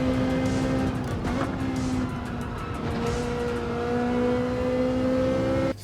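Ferrari 458 engine on the Brands Hatch circuit in Gran Turismo 7, a steady high-revving drone with rising and falling pitch as the car accelerates, with brief tire squeal, loud and continuous throughout.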